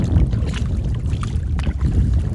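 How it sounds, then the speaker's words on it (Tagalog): Strong gusting wind buffets the microphone on a small boat out at sea, with a dense low roar and a steady wash of water and motor noise running throughout, close and loud with no speech. "Dako namang hangin, kusog namang hangin."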